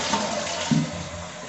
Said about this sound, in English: We're gonna flush it and see if it leaks water.